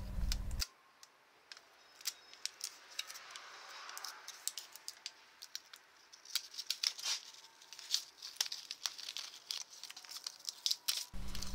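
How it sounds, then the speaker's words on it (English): Aluminum tape is handled close by to seal the blower fittings of a homemade charcoal-grill forge, giving quiet, irregular crinkling, ticking and snipping sounds throughout. "I just use aluminum tape in order to hold the blower and the fittings together"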